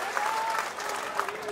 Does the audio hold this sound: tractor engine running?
no